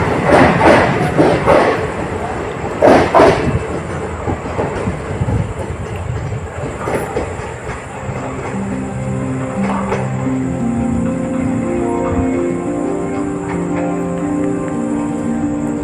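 The Bundelkhand Express, hauled by a WAP 4 electric locomotive, pulls out of a station at night, with rhythmic wheel clatter and rumble at first, then a steady hum with tonal whine as it rolls past, loud and near.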